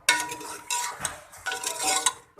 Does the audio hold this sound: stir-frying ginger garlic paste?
yes